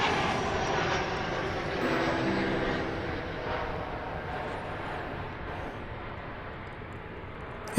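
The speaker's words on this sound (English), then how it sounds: "Another 737-800 is arriving now." A Boeing 737-800 airliner arriving at DFW Airport, flying in from Guadalajara, makes a continuous engine roar that fades gently over several seconds, heard on its own.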